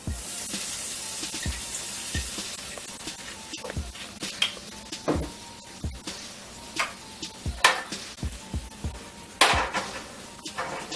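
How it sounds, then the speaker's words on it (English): Minced garlic sizzling in a hot pan, a soft steady hiss under sharp clanks and taps of utensils against cookware. "Now that we have our minced garlic sauteing a little bit"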